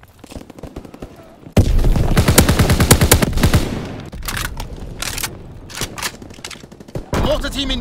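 Bursts of rapid automatic gunfire and heavy volleys in a military video game, loud and dense in stretches, broken by short pauses, with radio-style voice callouts mixed in.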